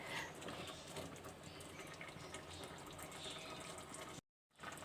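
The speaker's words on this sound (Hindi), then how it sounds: "1 कप पानी का डालूँगी मैं इसके अंदर।" A cup of water is poured into a cooking pot of beetroot and mustard greens. The splash and gurgle run steadily and fairly quietly, then stop abruptly near the end.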